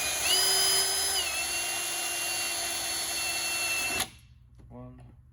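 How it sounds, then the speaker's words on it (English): A high-pitched small drill bit whines steadily for about four seconds drilling small holes in metal for a Land Rover Discovery snorkel, shifting pitch as it bites, then stops abruptly; a brief voice follows. "we're gonna use this little tiny drill bit and drill through those marked holes"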